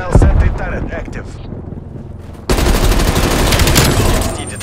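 In Black Ops Cold War, a hostile sentry turret opens fire. Sustained rapid automatic gunfire kicks in abruptly halfway through and stays loud and close. Voice callouts are heard before it starts.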